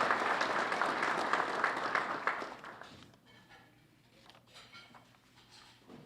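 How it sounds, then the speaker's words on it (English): Audience applause fills a breakfast forum hall, loud and sustained for about three seconds before fading into scattered claps and room murmur. "A round of applause for their sponsorship."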